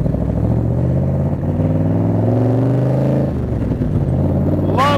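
A 1965 Shelby Cobra replica by Superformance with four-barrel carburetors, its loud, close engine roaring as it accelerates through the gears, pitch climbing and dropping at each shift under a steady rumble.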